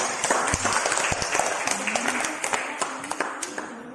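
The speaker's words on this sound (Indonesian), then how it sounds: "Kemudian kita beri aplaus untuk Inde dan teman-teman." A classroom of students claps for a group, giving warm, close applause that thins toward the end into a few separate hand claps.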